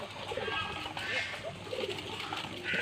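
Domestic pigeons coo softly in the morning while pecking paddy grain on a rooftop, low murmuring calls under steady ambient noise.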